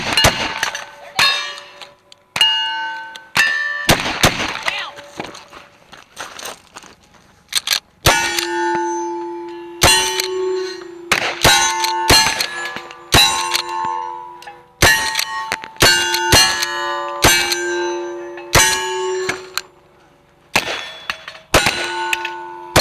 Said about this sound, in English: I was just barely straining to find a silhouette and pull the trigger, and I hear clang